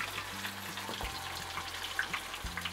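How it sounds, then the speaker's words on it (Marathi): Pieces of tandoori chicken shallow frying in hot oil over a low flame, giving a steady close sizzle with a low background hum and no talking. "एक साईडनं पहिलं भाजून घ्यायचं"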